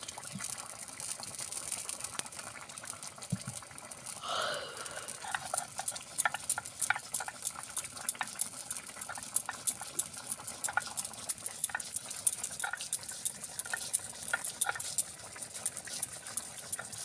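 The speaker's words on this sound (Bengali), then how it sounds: "জিরে নিয়ে নিয়েছি, আদা নিয়ে নিয়েছি, একটু বেটে নিই" Cumin and ginger are ground into a paste by hand, making a continuous rough scraping and rubbing with repeated gritty strokes, fairly close and without speech.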